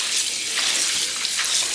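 Running water splashes steadily while greens are rinsed to wash out sand, a continuous close hiss and spatter with no talk.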